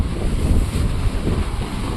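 Water rushing over the Haranbari dam spillway during heavy rain and flooding makes a loud, churning roar close by, mixed with buffeting wind noise on the microphone.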